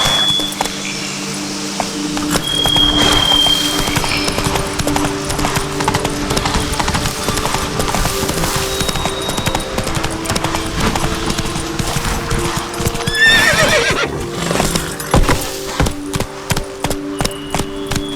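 In The Witcher 3: Blood and Wine, a horse gallops with a loud, steady rhythm of clip-clopping hooves, and a brief neigh breaks in near the middle over game ambience.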